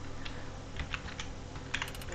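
Keys tapped on a computer keyboard at random, heard as a handful of light, scattered clicks over about two seconds, fairly close and quiet, with no voices.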